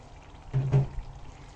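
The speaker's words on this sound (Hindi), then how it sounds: "5 मिनट के बाद इसमें पानी ऐड कर देना है तकरीबन हाफ कप के करीब" About half a cup of water poured into a pan of yogurt eggplant curry, a brief splash and sizzle lasting under half a second, close and moderately loud over quiet kitchen background.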